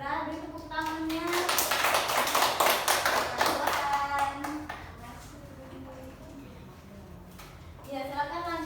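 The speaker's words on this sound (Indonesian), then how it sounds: "Beri tepuk tangannya." Students in a classroom clap together for a classmate's correct answer, a dense burst of applause that peaks and fades over several seconds, with a voice talking before and after it.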